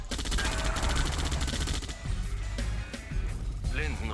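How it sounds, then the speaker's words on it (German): Rapid bursts of gunfire rattle against an ore miner in Command & Conquer: Red Alert 2, loud dense volleys for about two seconds, then sparser shots mixed with a spoken unit alert. "Erzsammler unter Beschuss."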